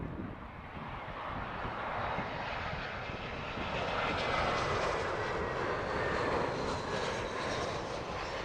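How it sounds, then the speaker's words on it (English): An Etihad Airbus A380, flight EY17 from Abu Dhabi, arrives at Heathrow with a loud, continuous jet engine roar that builds steadily and stays broad and strong throughout, with light wind noise and no talk. "There she is, EY17, Etihad A380, inbound from Abu Dhabi."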